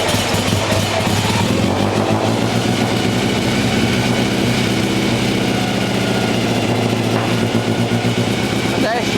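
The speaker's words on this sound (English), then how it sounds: "I'm going to press the starter button, and hopefully she'll fire" A vintage Brooklands racing car engine running at idle, a loud, continuous, throbbing mechanical clatter that holds steady close by throughout.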